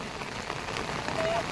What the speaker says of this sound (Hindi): बारिश इतनी तीव्र है कि बहुत से श्रद्धालु पन्नियां आदि लेने के लिए मजबूर हो गए हैं।